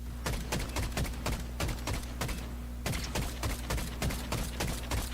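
Rapid bursts of gunfire from a Fortnite match during the Simpsons live event, dense volleys of close shots with a brief pause midway, firing alone without talk.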